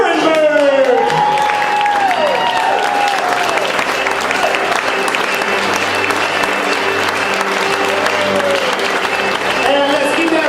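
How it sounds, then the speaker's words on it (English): A wedding party crowd bursts into sustained applause, a dense, loud clapping wash that continues steadily, with a speaker's voice briefly heard at the start. "put your hands together for our daughter of the groom"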